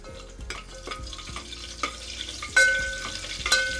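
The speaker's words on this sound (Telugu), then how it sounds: "ఇవి వేసేద్దాం చూడండి చిట్టపట్లు ఆడుతున్నాయి చూసారా" Bay leaves, cinnamon bark and cloves splutter in hot oil in a pan, with steady sizzling, scattered sharp pops and a few clinks of a spoon against the pot.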